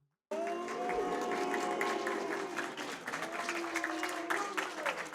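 An audience at a live speedrunning relay race event applauds steadily as a relay runner arrives, a dense and sustained wash of many hands clapping that starts abruptly and continues without pause.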